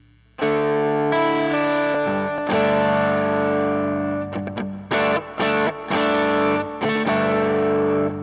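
Electric guitar played through an overdrive pedal with its drive turned fully down, giving sustained chords and ringing notes that stay fairly clean with slight grit, loud and close, with a few short pauses between phrases.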